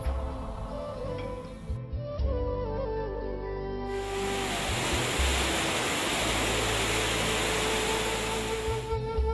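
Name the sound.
waterfall on the Chornai river, water flowing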